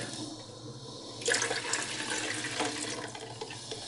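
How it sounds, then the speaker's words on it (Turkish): A Philips HD7459/20 drip coffee maker switched on and heating water, a soft watery hiss and trickle that grows slightly louder after the first second and carries on steadily. "Şu an makinem açık. Su ısınıyor aslında başladı çalışmaya."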